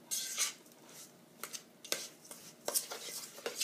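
Crab meat being stirred together with bread and a chopped pecan-and-almond mixture for crab cakes, giving intermittent soft scrapes and light clinks of a utensil against a bowl, close and fairly quiet, with no talking.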